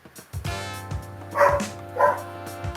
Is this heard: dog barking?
yes